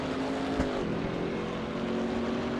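Ferrari race car engine howling at Laguna Seca in the Assetto Corsa EVO racing game, a loud, sustained high-revving drone holding steady with a slight pitch dip, heard alone without talk.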